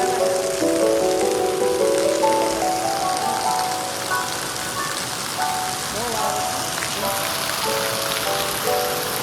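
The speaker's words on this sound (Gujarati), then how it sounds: "જોરદાર વરસાદ આપણે આવી ગયો છે" Heavy rain pours steadily in a village, a dense continuous hiss of drops on surfaces, with a tonal melody or jingle running through much of it and some brief voice-like sounds.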